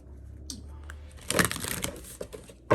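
Soft riffling and papery crinkling from cards being shuffled close by, in short bursts with quiet gaps, ending in a sharper flurry.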